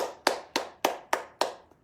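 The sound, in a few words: light clapping and tapping on the arm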